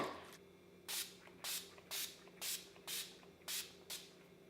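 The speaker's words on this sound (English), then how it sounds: "So now I just need to put some setting spray on." Seven short hissing bursts of Urban Decay All Nighter makeup setting spray in a steady rhythm, close and crisp, with quiet pauses between each puff and no talking.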